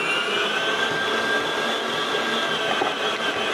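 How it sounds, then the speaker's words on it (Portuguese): An electric stand mixer whirs steadily with a loud, even motor hum and no pauses, close by. "Agora nós vamos lá pra batedeira."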